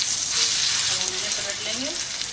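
Kebabs frying in hot oil give a steady, bright sizzle that fills the whole stretch, with faint tonal traces drifting through the crackle and no talking.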